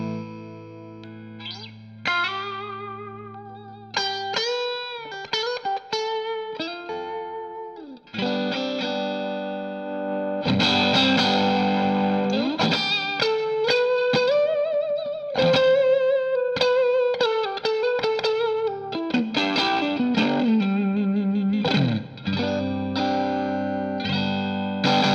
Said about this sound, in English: That's so close to it, and I think that really it's the Katana there